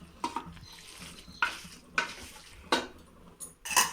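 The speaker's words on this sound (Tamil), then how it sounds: "எல்லாத்தையும் போட்டு நல்லா வதக்கணும்" Spices, chili powder and coriander powder, being stirred and sautéed in a hot pan for chicken biryani, with a spoon scraping the metal in several separate strokes over a low sizzle; no one speaks.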